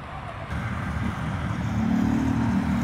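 A Busscar Jum Buss 360 bus drives past outdoors, its mid-range engine rumble rising gradually and growing louder and nearer over a few seconds, with a steady low drone.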